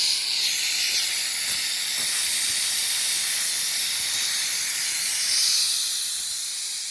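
Steam hissing out of an opened valve on a pressurised cauldron used to cook cabbage soup outdoors, a loud, steady, bright hiss that runs without pause, with no talk over it.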